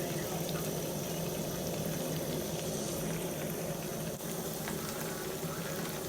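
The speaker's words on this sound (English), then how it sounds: "then I would add the onion to let it fry up a little bit" Onion frying in hot oil with kako and momone for Ghanaian okro stew, a steady dense sizzle holding level throughout with no talking.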